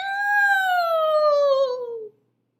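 A human voice imitates a cat-like Halloween yowl, one long, loud, drawn-out cry that slides gradually downward in pitch for about two seconds and then stops abruptly.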